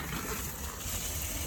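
Water rushes from a tankless water heater through a hose as it is flushed of old vinegar, a steady, loud gushing hiss with a low rumbling undertone that holds constant throughout.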